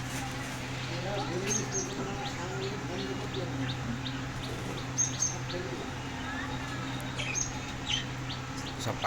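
Small birds in a home bird colony kept in clay pots chirp in scattered short high notes. A low steady hum runs underneath throughout.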